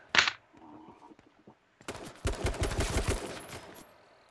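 Rapid gunfire in H1Z1 rattles in a loud, sustained burst of overlapping shots after a sharp single crack and a quieter lull, the volleys striking close around the players.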